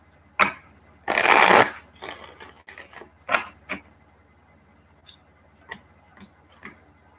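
Tarot cards being shuffled during a live reading, with one long riffling burst near the start and scattered softer card taps and flicks around it, close and fairly loud with no talking.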